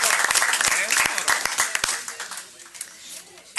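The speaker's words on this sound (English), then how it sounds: "a big round of applause" Applause during a board of trustees meeting, a moderate burst of clapping from a small group that tapers off after about two seconds, with faint voices as it fades.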